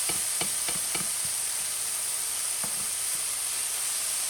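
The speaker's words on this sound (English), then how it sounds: "You want to saute them for about 3 to 5 minutes." Vegetables sauté in olive oil in a pan with ginger already added, giving a steady bright sizzle with a few soft clicks of stirring near the start.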